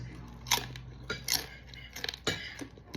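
Crunching bites into fried chicken rolled tacos, a few short crisp cracks spaced roughly half a second apart, close and fairly quiet with no talking.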